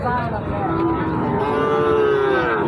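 A bovine at a busy cattle market gives one long, loud, close moo that holds for nearly three seconds.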